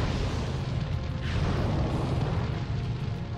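A fiery Burnout attack in The Legend of Dragoon, a sustained rumbling blast with heavy low boom and crackling roar, loud and continuous for a few seconds with no talk.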